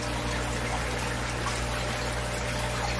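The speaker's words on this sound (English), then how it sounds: "I change out their water." Water being changed in a habitat for 2-year-old baby sulcata tortoises, a steady close rush of flowing liquid with a constant low pump-like hum throughout, no voices.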